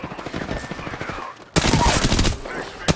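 Gunfire in Apex Legends: rapid bursts of automatic weapon fire, loud and close, with a brief lull before a dense, sustained volley and a final shot; a voice is heard talking under the earlier shots.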